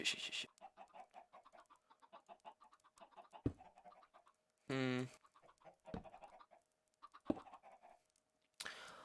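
Short bursts of chicken clucking with scratchy squawks, repeated over a busy game soundscape, one loud harsh squawk standing out midway.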